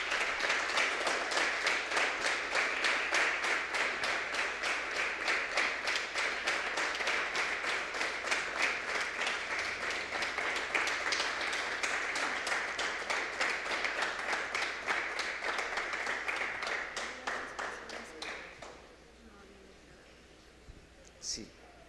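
A church congregation gives a long burst of applause, dense steady clapping that continues loudly for most of the stretch, then tapers off and fades near the end.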